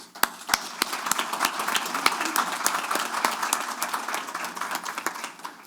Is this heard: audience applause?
yes